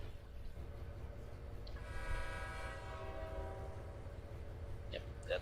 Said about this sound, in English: Yep, that's a train.